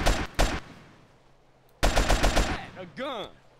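Gunfire in GTA San Andreas during a speedrun: two close single shots, then after a pause a quick rapid string of shots, ending with a rising and falling electronic whine.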